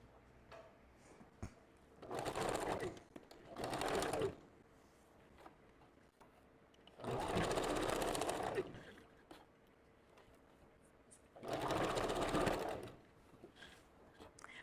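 A sewing machine stitches hair wefts onto a flat wig cap in four separate bursts of rapid whirring, each lasting a second or two, with quiet pauses between them.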